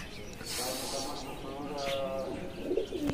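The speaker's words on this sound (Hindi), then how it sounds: "मच्छी साहब के भी कबूतर उड़ गए हैं" Pigeons coo in soft, wavering calls over outdoor background noise on a day of rooftop pigeon flying, with a few brief chirps near the end.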